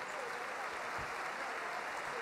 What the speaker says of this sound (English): Nice sportsmanship here by the Venezia fans to give him some applause